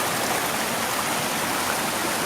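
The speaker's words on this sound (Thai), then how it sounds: "เป็นน้ำตกไม่ใหญ่ก็เป็นทางน้ำไหล" Small waterfall stream in Nakhon Nayok, Thailand, flowing over several stepped drops in rain, giving a steady, dense rush of water close by with no pauses and no voices.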